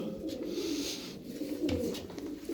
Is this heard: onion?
no